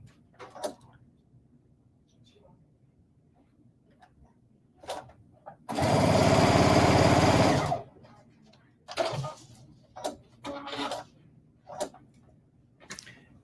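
A sewing machine stitches down a quilt square for a log cabin block, running in one steady close whir for about two seconds amid scattered handling clicks and taps before and after.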